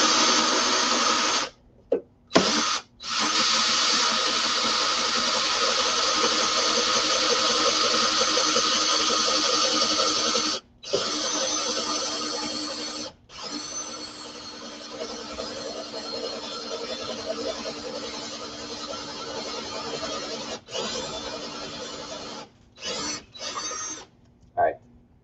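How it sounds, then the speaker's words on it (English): A drill running in reverse through the plexiglass panel of an Arcade1Up cabinet during modding gives a loud, steady raspy whine that holds for long stretches, broken by a few brief stops and a stuttering finish. "I'm going to start drilling through the plexi portion only."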